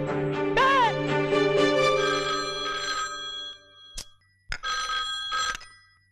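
A telephone rings steadily for about three seconds, followed by a couple of sharp clicks and a short burst of voices.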